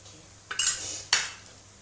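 A metal lid is set onto a pan, two distinct clanking hits in quick succession, close and fairly loud over a low background hum, with no talking.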